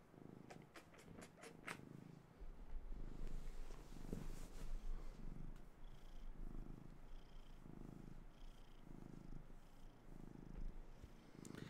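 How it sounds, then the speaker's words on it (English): A cat purrs steadily up close in a quiet room, its soft rhythmic rumble pulsing with each breath, faint and continuous, after a few brief clicks at the start. "Oh, come here, fat cat."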